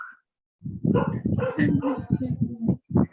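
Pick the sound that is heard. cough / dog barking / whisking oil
dog barking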